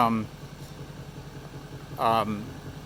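Low, steady diesel engine rumble of an LML Duramax truck idling throughout, with brief bursts of speech at the start and near the two-second mark.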